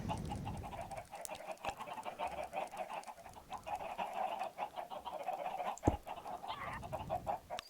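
Chickens cluck in the video game Minecraft, a steady run of close, clucking calls repeating throughout, fairly loud, with a single sharp click partway through.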